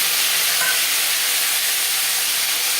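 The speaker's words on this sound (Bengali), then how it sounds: "পাঁচফোড়ন থেকে ভাজা ভাজা একটা গন্ধ বেরোতে শুরু করলে এতে দিয়ে দেবো আদা বাটা কাঁচা লঙ্কা বাটা" Panch phoron, bay leaf and ginger and green chilli paste fry in hot oil, a loud, steady hiss of sizzling close by with no talk.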